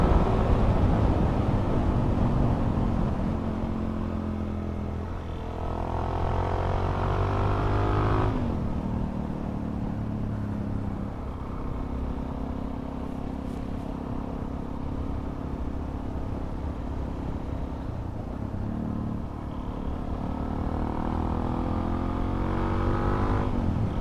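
A Suzuki DRZ 400 SM motorcycle engine accelerates repeatedly, rising through the revs several times with dips between pulls. The rumble is steady and fairly close, with no speech.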